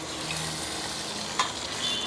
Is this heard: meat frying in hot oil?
yes